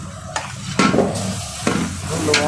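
Garlic paste and onions sizzle in a large pan for a community langar. A loud, close frying hiss is broken by several sharp bursts of scraping and stirring.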